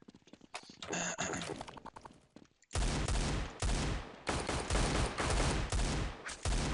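Automatic gunfire from Counter-Strike 1.6 comes in loud, sustained bursts with brief pauses, close and harsh, following a quieter stretch of scattered game sounds.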